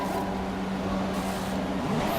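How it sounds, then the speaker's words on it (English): A Formula One race car in the F1 2017 video game rolls into the pits, its engine a steady droning hum with a faint rising whine near the end, continuous and fairly loud. "So Buddy comes into the pits for his"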